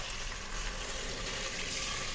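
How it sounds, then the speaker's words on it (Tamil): Water is poured into a pot of chicken cooking for Arabian mandi, giving a continuous close rushing splash that stays even and fairly loud throughout. "ஒரு 1/2 லிட்டர் அளவு தண்ணி ஊற்றலாம் சிக்கன் வேகிறதுக்கு."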